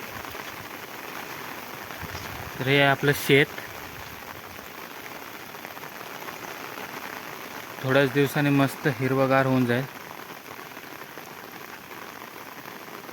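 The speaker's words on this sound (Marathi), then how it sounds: "पाऊस पडतोय" Steady rain falls across an open farm field during the monsoon, a constant hiss running throughout, with a voice speaking over it in two short stretches.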